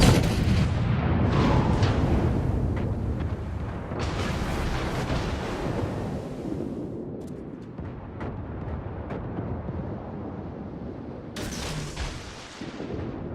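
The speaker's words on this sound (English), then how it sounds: "there are a few shells coming in" Naval shells streak in and burst around a warship in World of Warships, a dense run of booming, rumbling impacts and gunfire layered over one another, loud and continuous with sharp crashes near the start and end.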